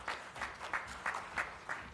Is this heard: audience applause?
yes